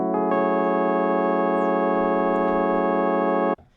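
A sustained microtonal sharp-4 minor-7 chord in Novum decimal tuning rings as one steady, loud held block of stacked tones, then cuts off abruptly near the end, with no talking.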